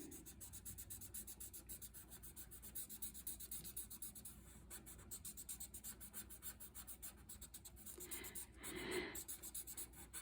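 Pencil shading and blending on paper for a drawing: a steady, close scratchy rasp of graphite strokes running throughout, with a louder rubbing burst near the end as the tone is blended.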